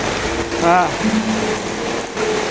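Heavy rain pours during a village flood, a dense steady hiss of water throughout, with people's voices briefly audible over it.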